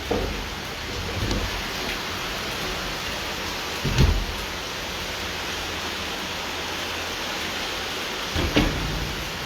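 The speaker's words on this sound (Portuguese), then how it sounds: "Eu fechando a janela aqui, porque tá chovendo forte" Heavy rain falls outside an open window as a dense, steady hiss, with a few louder bursts that may be distant thunder rumbling; no one speaks.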